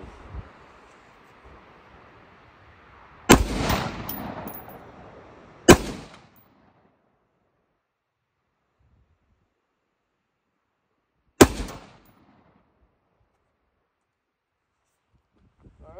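Three sharp, loud gunshots aimed at a target on a log outdoors: the first with a lingering echo, the second a couple of seconds later, the third after a long silent pause.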